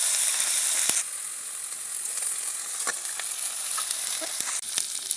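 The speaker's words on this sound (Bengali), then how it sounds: "পেঁয়াজ আর রসুন ভালো করে ভেজে নেব, তারপর বাকি মশলাগুলো দিয়ে দেব।" Onion and garlic paste fries in hot oil in a pan, a steady close sizzle and hiss with a few faint clicks from stirring, no voices.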